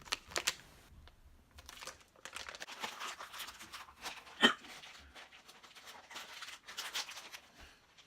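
Close, quiet crinkling and rustling of a sealed plastic beef jerky package being handled, with scattered crackles and one sharper snap partway through.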